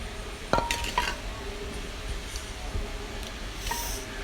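Clinks and scrapes of a utensil against a bowl as homemade catfish chili paste is scooped in, a few brief close taps near the start with a quieter clink later, over light kitchen background noise.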